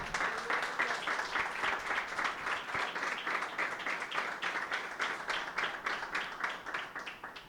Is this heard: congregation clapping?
yes